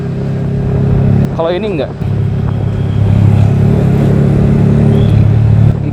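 Yamaha R15 V3 motorcycle with a Daytona Evolution exhaust idling and revving steadily nearby, a deep continuous engine drone with a short whine-like sweep, while someone talks over it.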